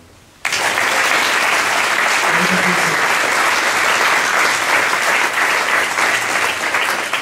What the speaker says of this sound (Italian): da parte mia un grande applauso a Mattia